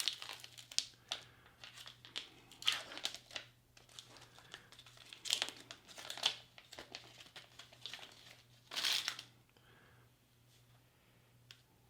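A double-wrapped, vacuum-sealed Portuguese Army 24-hour ration package is peeled open with close, sharp crinkles and tearing plastic in irregular bursts, quiet between pulls, over a faint low hum.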